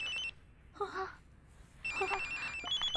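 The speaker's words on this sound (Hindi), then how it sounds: "कब से फोन रिंग हो रहा है, उठा क्यों नहीं रही थी?" A telephone ringing, with a bright tonal ring sounding in repeated bursts under a faint background murmur.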